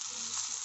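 Squeezed rela flower petals go into a hot curry and give a steady, close, hissing sizzle that lasts less than a second.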